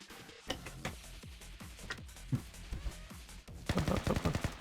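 Gunfire in the video game Blue Archive, a rapid series of close, sharp shots in uneven bursts, building to a dense automatic volley at the end.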